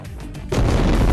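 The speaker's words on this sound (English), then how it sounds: "And there's just explosions going off as well." A nuke detonating in a video game, a sudden deep roaring blast that swells from a low rumble into a loud, sustained wall of noise, close and overwhelming.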